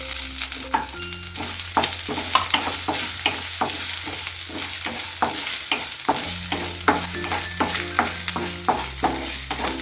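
Ginger frying and being stirred in a pan with other ingredients for pirandai thuvayal, a steady sizzle broken by repeated close scrapes and clinks of a spoon against the pan throughout.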